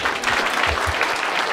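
Comedy show audience bursting into applause during crowd work, a short dense wash of clapping from many hands, loud and close, with no speech over it.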